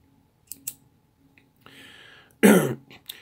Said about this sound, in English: It's not quite as loud either as the last bolt action I showed you.